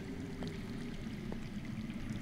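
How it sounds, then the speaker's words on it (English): Running water flowing underground in a Game of Thrones video game, a steady rushing and trickling wash at a moderate level with a few faint clicks, continuous for about two seconds and with no talking. "I hear water. From underground."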